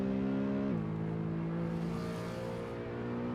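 A BMW E92 M3 engine in a video game revs with a steady high-pitched tone that drops briefly as it shifts, then climbs again, loud and continuous, on the Nürburgring.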